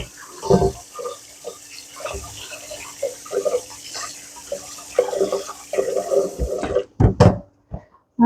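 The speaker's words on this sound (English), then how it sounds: "Let me wash my hands." Hands washed under a running kitchen tap, with irregular splashing and rubbing in close bursts, then the water shuts off and a few handling sounds follow.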